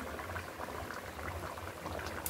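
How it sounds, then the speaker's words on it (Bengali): A pot of bottle gourd leaf curry with fish head simmers on the stove, giving a steady, close bubbling hiss with soft popping throughout and no voices. "এবার একটু ফুটিয়ে তারপর নামিয়ে নেব।"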